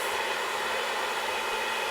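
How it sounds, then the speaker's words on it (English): A hair dryer runs on its low setting during hair styling, giving a steady, even, close-up whoosh of airflow that holds constant throughout without breaks. "I'm using my dryer on low just so it's not super loud"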